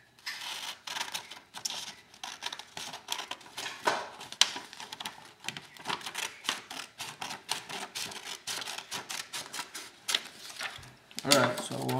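Scissors cut a sheet of paper into halves while a paper M4 rifle model is being made: a steady run of crisp, close snips and rustles over about twelve seconds, with a faint voice now and then.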